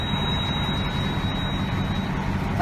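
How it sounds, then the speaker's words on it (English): A truck tractor's diesel engine rumbles at a steady low idle close by, with a thin, constant high-pitched warning buzzer sounding over it for most of the stretch. "turn the engine on"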